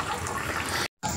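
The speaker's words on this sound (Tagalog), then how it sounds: "Medyo mabagal lang ang tubig." Water runs slowly from a tap at a picnic and camping ground in Bamban, Tarlac, a steady hissing flow that cuts out for a moment and then resumes, with no one speaking.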